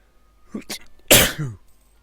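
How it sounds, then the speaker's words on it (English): A single sudden sneeze: a short sharp intake followed by an explosive burst, close and loud, then quiet. "Sneeze. Which is unpleasant, to say the least. Very sudden."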